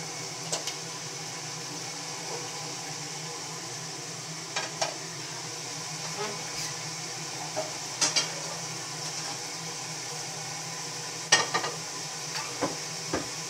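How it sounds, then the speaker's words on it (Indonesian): An egg frying in oil in a pan gives a steady, quiet sizzle that runs throughout, with occasional soft clicks and crackles popping up over it. "Kalau goreng telur,"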